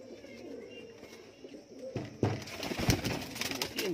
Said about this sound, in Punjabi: ਰੋਲ ਟੈੜੀ ਕਬੂਤਰ ਹੈ ਬਾਈ